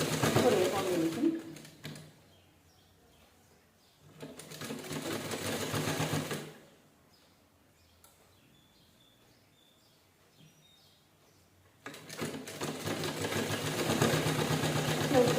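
A sewing machine stitches piping onto a blouse in three bursts of steady close whirring, separated by quieter gaps with faint background sounds and some talking.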